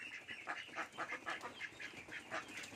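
Khaki Campbell ducks on a shed farm quack in a quick series of nasal calls, several birds overlapping at moderate distance with no voices.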